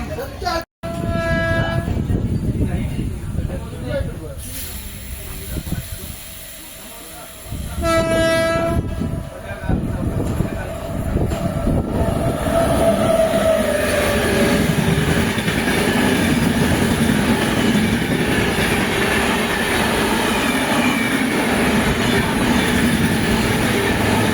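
A MEMU passenger train running from Bangalore toward Jolarpettai, India, rumbles loudly along the tracks with a steady roar, and a horn sounds twice in the opening seconds before the running noise continues unbroken.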